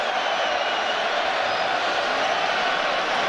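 Stadium crowd at a Wales versus Iceland Nations League football match, a dense, steady roar of many voices held at full strength throughout, broad and loud with no single voice standing out.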